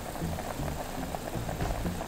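Soup bubbling at a steady boil in a pot, a Korean stew with pork, soju, garlic, chili flakes and oyster sauce, giving a soft continuous gurgle with faint irregular pops, close and fairly quiet, no voices.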